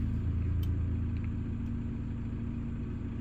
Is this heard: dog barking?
no